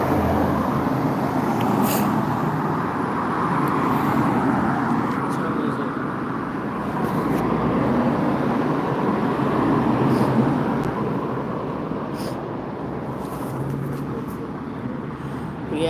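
Steady road traffic rumbles past a city bus stop, a continuous broadband wash of passing vehicles at moderate distance with occasional brief hissing bursts, no talk.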